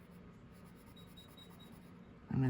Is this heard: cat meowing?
no